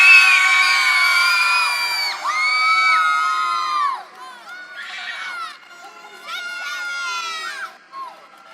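A group of children yells and whoops loudly at a national swimming meet, with high-pitched cheering voices in overlapping bursts and short pauses between rounds of shouting.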